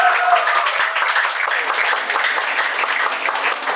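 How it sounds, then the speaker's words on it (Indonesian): Audience applause at an English and character camp at a villa, steady dense clapping from a crowd that holds an even level for a few seconds with faint voices underneath. "Tepuk tangan buat Kak Bella."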